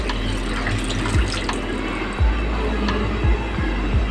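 Chicken stock mixed with cornflour poured into a hot pan for vegetable gravy, a steady loud splashing pour with sizzling.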